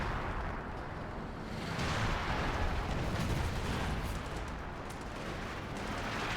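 Heavy, continuous rumble of an artillery barrage in a competitive video game match, booming explosions overlapping into a thick wall of noise with sharper cracks scattered through it.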